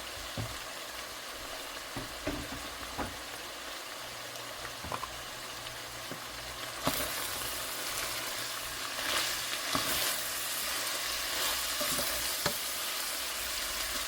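Hamburger meat sizzles and fries in a pan, a steady crackling hiss with occasional stirring clicks, growing slightly louder partway through, no voices.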